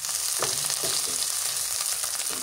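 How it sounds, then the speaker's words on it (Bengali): Dried shutki fish fries in hot oil with a steady, loud sizzle, while occasional stirring scrapes and clinks cut through the hiss. "এখন তেলের মধ্যে ভাজি, তেলের মধ্যে শুটকিটা ভাজলে কী হয়"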